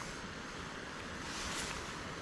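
Boiled water poured out from a camping pot beside Loch Faskally, a steady broadband splashing rush that runs continuously and fairly close, with no talk over it.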